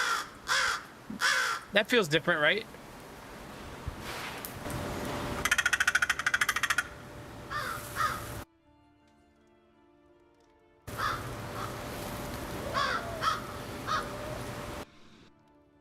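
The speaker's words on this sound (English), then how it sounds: "Apparently crows make a lot of noises." Crow cawing calls played loudly in bursts, mixed with varied croaks and rattles, alternating with a person talking; a quiet gap falls in the middle.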